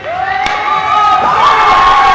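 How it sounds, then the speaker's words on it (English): A youth ice hockey team gives a loud, close group cheer together on the rink, the shouting of excited young voices swelling and holding steady throughout. "With a cheer, his team, the Bearcats, spread back out on the ice."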